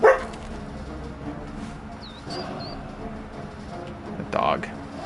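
Dog in the video game Conan Exiles, a short bark at the start followed by a few faint yips and whimpers over quiet game background noise.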